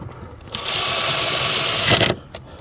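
A power driver runs steadily for about a second and a half, driving screws into the air cleaner lid on a Chrysler 2.4L engine, a loud whirring burst followed by short clicks and a brief second pulse.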